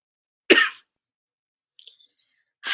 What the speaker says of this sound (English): That cough, man.